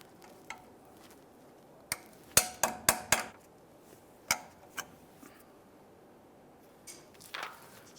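A locking cotter pin is pulled from a tie rod end, giving a scattered series of sharp metallic clicks and taps, several in quick succession and others spaced out, close and fairly quiet with no talking.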